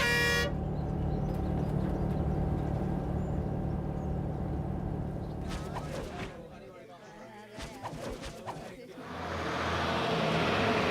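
A bus pulling in and honking, with a couple of horn blasts cutting through the engine rumble and traffic noise nearby, followed by a louder hissing roar as it arrives.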